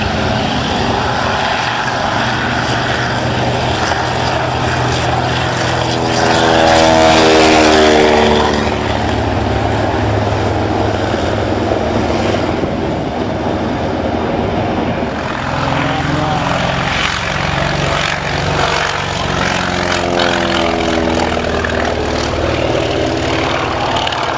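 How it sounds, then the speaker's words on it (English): A WWII Grumman TBF Avenger propeller aircraft flies past at a beach warbird airshow, its loud droning engine rising as it nears and fading away, with an announcer talking over it. "And here she comes now with Josh Wilson at the controls"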